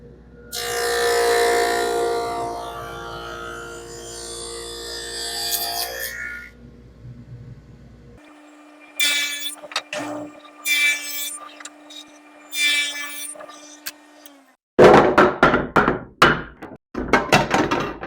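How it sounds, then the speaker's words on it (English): A table saw fitted with a stack dado set for a 3/4 inch cut runs through wooden hive frame bar stock, giving a loud sustained cutting roar, then a motor hum with several short bursts and a cluster of sharp knocks at the end. "I set up the stack dado for a 3/4 inch cut and marked out the work piece"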